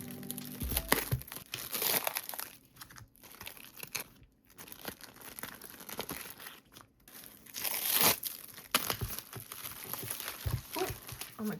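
Sticker sheets are assembled by hand at close range, with soft crinkling of plastic and paper coming in irregular bursts and handling noises between them, quiet overall and with no talk.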